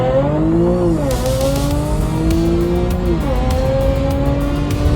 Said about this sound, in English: It allows you to use launch control to dump power to all 4 wheels through Audi's Quattros.